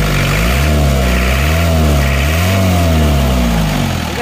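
Engine of an Isuzu Panther running after a cylinder liner replacement: a loud, close diesel idle with a steady low drone and gently wavering pitch, as if lightly revved, continuous throughout with no talking.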